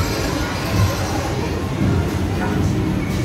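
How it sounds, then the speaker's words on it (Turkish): A ride train rolls along with a continuous low rumble and rattle, steady throughout, with a faint crowd murmur in the background. "Şimdi bu tren böyle hareket ediyor, dönüyor."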